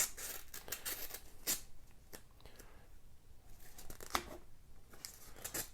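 A paper envelope being torn open by hand, with crisp ripping and crinkling bursts spread across several seconds, fairly close and alone without talk.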